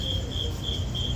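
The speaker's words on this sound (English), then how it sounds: "then the cicadas up in the trees" Cicadas buzzing up in the trees, a steady high-pitched pulsing drone at moderate distance over a low outdoor background hum.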